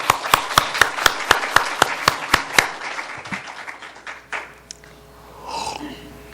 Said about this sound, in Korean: 우리 저 애기 엄마들 위해서 박수 한번 쳐줄까요?